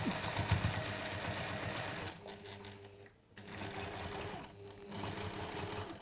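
A sewing machine stitches in rapid, steady bursts, its motor whirring in short runs separated by brief pauses, close and fairly quiet.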